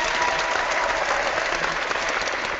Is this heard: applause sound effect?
yes